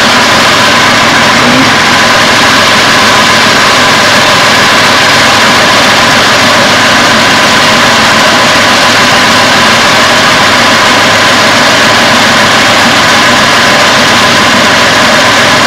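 A 1999 Toyota Tacoma idles loudly and close, its steady engine drone joined by the AC compressor pump kicking on, with the hum holding constant throughout and no talk.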